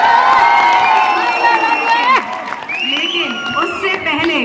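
A crowd at a musical evening cheers and claps to welcome a singer, with loud applause and whoops that dip briefly midway, while a host's voice speaks over it.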